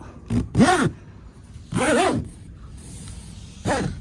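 Zipper on a Tent-Mark Designs Comfort Solo tent being pulled in three separate short runs, close and fairly loud, with quiet gaps in between and no talking.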